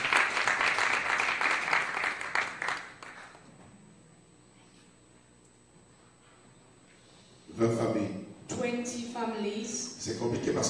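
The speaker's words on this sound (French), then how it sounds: "Let's clap for the Lord for the families." A church congregation claps for the Lord during a Sunday service, steady applause over the first few seconds fading into quiet, then renewed clapping with voices toward the end.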